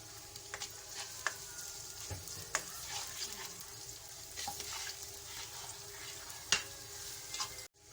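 Onions frying in hot oil for aloo bhurta after green chillies have been fried, giving a steady close sizzle with occasional sharp clicks and scrapes from stirring, no voices.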